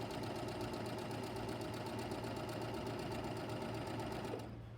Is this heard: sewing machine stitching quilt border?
yes